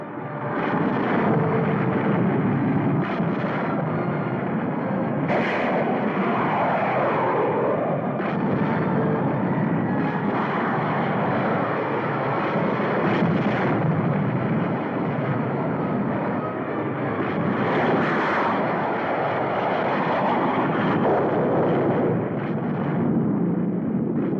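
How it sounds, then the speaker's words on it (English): A war film's attack scene: enemy jet aircraft diving on Boulder Dam, a continuous loud roar of engines mixed with explosions and anti-aircraft fire, dense and unbroken throughout. "Enemy jets approaching Boulder Dam."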